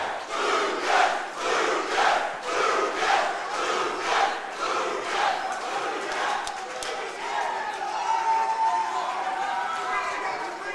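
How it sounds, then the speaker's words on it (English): Arena crowd at an MMA fight roars and cheers in surging waves, loud and rhythmic at first like chanting, then settling into a broader murmur, with a commentator talking over it. "This crowd is just absolutely electric right now."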